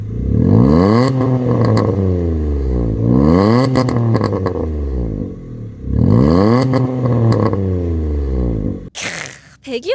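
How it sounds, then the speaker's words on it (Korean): A tuned Kia Morning's exhaust revs hard three times in an empty parking lot, each rev rising and falling in a raspy, crackling burble, ending with a sharp pop. "일단은 선체로 배기음 한번 들어보시죠"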